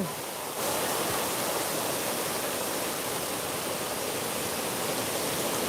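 A steady, loud broadband roar of a waterfall in a cold, misty setting, starting after a brief quieter moment and then continuing unbroken and even throughout.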